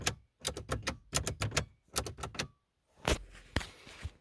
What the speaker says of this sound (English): all the buttons are all like nice 90s like clicky